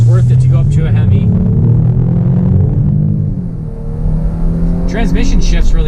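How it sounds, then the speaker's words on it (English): A 2019 Dodge Durango GT with its V6 engine accelerating hard, a steady, loud engine drone whose pitch climbs, eases briefly as the transmission shifts, then rises again. "let's get a little acceleration with this V6"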